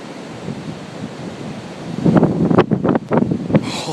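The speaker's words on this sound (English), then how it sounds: "here comes a gust" A gust of wind surges in during a snowstorm, rising from a steady low roar into loud, buffeting bursts that batter the microphone outdoors in the cold.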